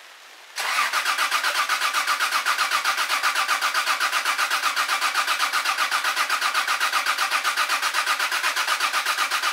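A Chinook motorhome engine cranks on a freshly charged battery, its starter churning in a loud, fast, steady rhythm for about nine seconds without catching, with no voices.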